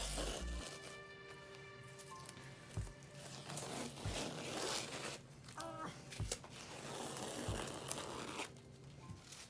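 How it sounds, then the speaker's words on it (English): Painter's tape is peeled off a painted wall-art canvas, with close, repeated tearing and crinkling strips and sharp rips scattered over several seconds, recorded fairly quietly. "taking off the tape to see those satisfying clean lines"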